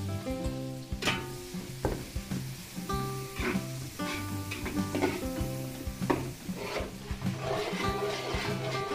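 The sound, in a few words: onions sizzling as they fry in a pan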